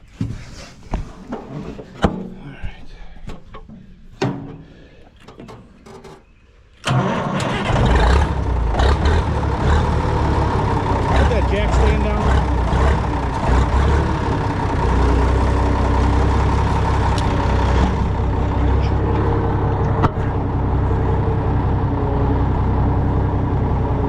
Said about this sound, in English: This one runs pretty good for a tractor that's sat a long time.